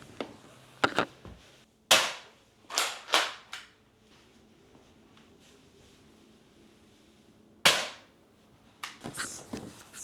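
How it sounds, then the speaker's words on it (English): A Bug Assault salt gun fires at a fly indoors, sharp snapping shots heard close, a handful spaced irregularly with a few rapid clustered cracks and quieter handling noises between them, no talking. "This is called a bug assault, and essentially it's a salt gun."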